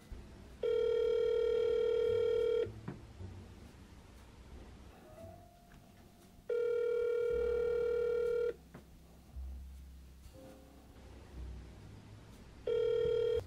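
Three long electronic ringing tones with pauses between them, like an unanswered phone call, over faint room noise.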